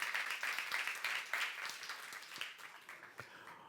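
A church youth congregation applauding during a sermon, with scattered hand claps that thin out and soften toward the end.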